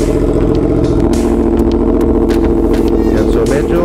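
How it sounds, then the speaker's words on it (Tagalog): A Yamaha R1 sportbike engine runs loud and close with a dense, steady mechanical drone, its revs settling. A voice may be faintly present under the engine. "bababa yung RPM nitong Yamaha R1. So pwede na natin siyang alisin nun dahil mababawasan na yung kanyang ingay"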